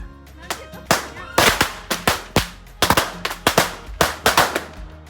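Diwali firecrackers go off nearby in a rapid, irregular string of sharp, loud bangs, some in quick doubles, with faint voices in the background.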